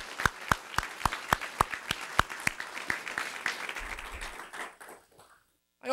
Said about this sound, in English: Let's have a round of applause for all that's in Laurel.